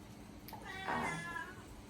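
A pet cat gives a single drawn-out meow in a home kitchen, rising and falling over about a second, fairly close and clear above faint room noise.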